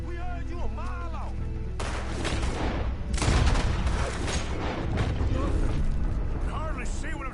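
Gunfire in the video game Red Dead Redemption 2 during a night shootout: bursts of shots and mechanical clatter over a steady in-game music and ambience bed, with voices from the game mixed in.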